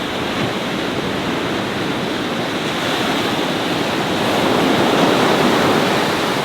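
Ocean surf rolling onto Culburra Beach, a steady loud wash of broken waves and foam that swells slightly toward the end, with some wind on the microphone and no voices.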